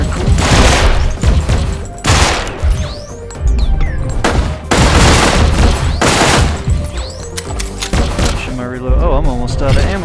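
Pistol and SMG gunfire in the VR game Sairento, loud repeated bursts of shots and crashing impacts in close succession, with someone talking in between.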